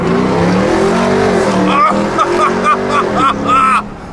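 A loud, throaty RAM TRX pickup truck aftermarket exhaust roar builds and climbs in pitch under heavy throttle, heard close up from inside the vehicle, then drops off abruptly.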